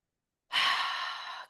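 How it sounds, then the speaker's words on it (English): A single deep, airy breath taken during a guided meditation, starting abruptly after silence and sustained close to the microphone for about a second, with no talking. "Take a breath with me."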